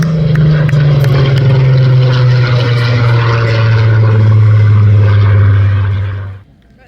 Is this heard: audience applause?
no